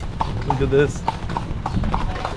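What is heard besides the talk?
horse-drawn buggy, hooves clip-clopping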